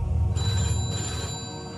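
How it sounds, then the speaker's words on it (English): A telephone bell rings steadily and close by, with a continuous electronic trill and no voices over it. "the telephone was ringing, and it continued to ring each time I answered it"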